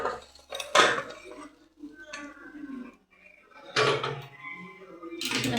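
A cooking pot holding potato filling for alu paratha is lifted off a stove, giving a few metallic clanks and scrapes spread across the moment, with a voice speaking between them.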